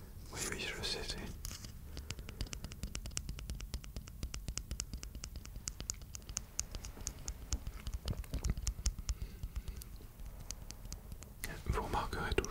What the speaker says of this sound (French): les sonorités que peuvent engendrer, produire une épingle à linge